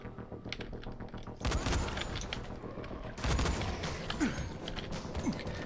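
Rifle gunfire inside a building in the Dying Light co-op zombie game: two bursts of sharp shots stand out above a steady noisy game bed with clicking, at moderate level.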